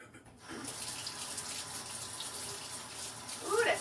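Cold water gushes steadily from a kitchen tap into a sink, close and continuous, with the splashing changing slightly near the end.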